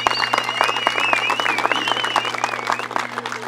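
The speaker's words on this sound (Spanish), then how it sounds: "Un fuerte aplauso para todas ustedes en esta tarde." Audience applause at a political rally, steady dense clapping throughout with a whistling tone and some crowd noise mixed in, fairly loud and continuous.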